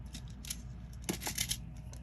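Wire cutters snip 20 gauge craft wire into short lengths: a handful of sharp, close clicks, one near the middle and a quick cluster just after, over quiet room hiss.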